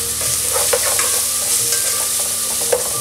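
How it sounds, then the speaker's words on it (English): Ingredients sizzle steadily in a pan over medium heat for black pepper seasoned smoked salmon rice, with intermittent scraping and clinking of a utensil stirring close by. "on medium heat, you're gonna leave this fry for about a minute"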